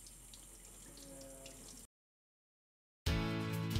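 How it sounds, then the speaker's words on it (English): Running tap water rinses the test strip guide cover of a Roche Cobas h 232 meter: a soft, steady flow, then a brief silence, then a louder, fuller gush of water close by. "To clean the test strip guide cover, you can rinse the cover under running water."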